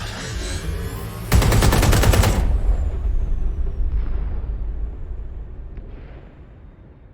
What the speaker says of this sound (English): Moments ago, a series of explosions devastated 3 sites in London.